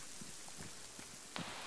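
Rain falling in a military tactical video game, a faint, steady hiss with a few soft scattered droplet taps, no voices.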